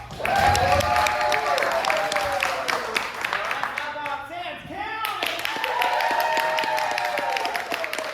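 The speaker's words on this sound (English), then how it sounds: "We're going to round of applause." A game-show audience applauds and cheers to vote for a team, a burst of clapping and crowd noise under a host's amplified voice, dipping briefly midway before swelling again.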